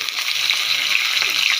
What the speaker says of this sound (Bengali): মাছটা ভেজে নিলাম